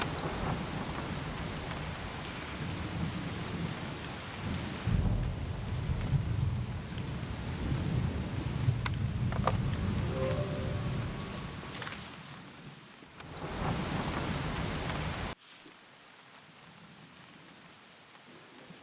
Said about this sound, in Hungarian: Magának az esőnek a hangját fel tudjuk venni?